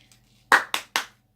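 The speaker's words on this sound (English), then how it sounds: "round of applause." Three sharp, close hand claps in quick succession, loud and isolated against near silence.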